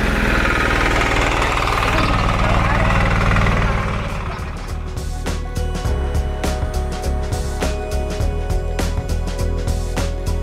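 An FTL 720D diesel farm engine cranks and catches, shifting from a loud starting roar into a steady, knocking idle with rapid rhythmic chugging close by.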